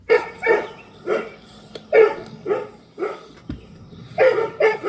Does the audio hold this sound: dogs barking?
yes